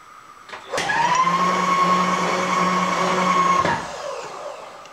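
A 1 inch drill bit bores into a pilot hole in a steady-rest workpiece. It makes a loud, sustained whirring drone with a steady whine, starting abruptly, running evenly for about three seconds, then cutting off, with no talk.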